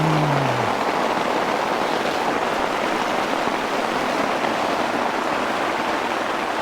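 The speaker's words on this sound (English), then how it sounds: "we're in a full-on deluge here." Heavy rain pours down in a steady, loud deluge outdoors, a dense unbroken hiss with a brief low tone at the very start and no talking.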